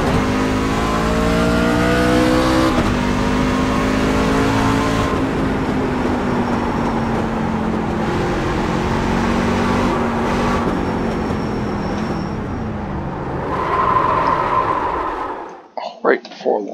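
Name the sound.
racing truck engine in iRacing video game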